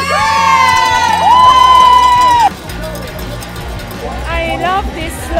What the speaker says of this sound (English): The Killington crowd, they cheer on everyone.